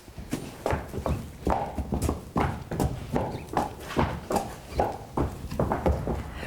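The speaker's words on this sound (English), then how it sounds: "when it comes to heavy work here, the Haythorns hitch up heavy horses" Heavy draft horses walk on a ranch, their hooves clip-clopping in a steady, close, fairly loud rhythm of repeated hoof strikes with no talk over them.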